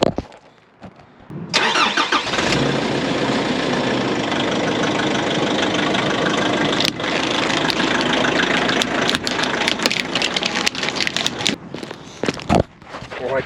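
A vehicle starts and drives slowly over a row of steel tape measures during a tape measure durability test, its engine running loud and steady with faint crunching and clicks under the idle, then cutting off near the end.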